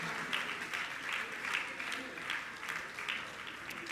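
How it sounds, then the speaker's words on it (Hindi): Audience applause at a religious discourse gathering, a steady patter of many hands clapping for several seconds, faint and distant. "आपकी तालियां बजती रहना चाहिए।"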